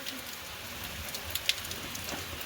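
Rain falls steadily on a summer day in the hills of Uttarakhand, a soft, even hiss of drops with a few brighter taps standing out, fairly faint and without voices.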